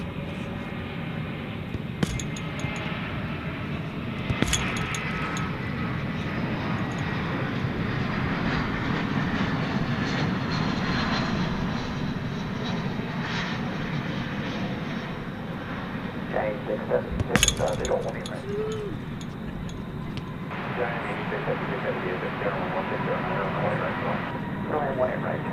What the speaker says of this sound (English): American Flight 2900 arriving from LAX. It's an Airbus A321.